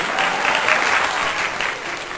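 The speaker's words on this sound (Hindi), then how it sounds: "जोरदार तालियां निवेदिता शर्मा जी के लिए" A short, loud burst of dense audience clapping at a Hindi poetry recital gathering, continuous and close for about two seconds with no one speaking.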